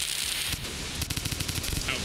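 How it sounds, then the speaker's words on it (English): Fireworks in Rain World burst into a quick run of sharp crackling pops lasting about two seconds, loud and close. "Let's see what the fireworks do."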